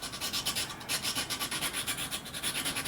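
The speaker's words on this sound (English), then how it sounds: "So I've done the filing that I wanted to do" Wooden wing joiners for a Samba Prestige F5J model glider being filed by hand: steady, rhythmic back-and-forth rasping strokes, close and clear, with no talking.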